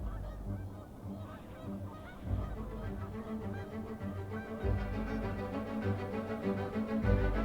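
Canada geese honking repeatedly over several seconds, a continuous chorus of overlapping nasal calls from a flock with rising and falling loudness.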